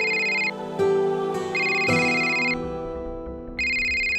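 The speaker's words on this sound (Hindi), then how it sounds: "बेटे कपिल का फोन है।" A phone ringtone plays a repeating electronic melody, with bright tonal bursts recurring between short pauses.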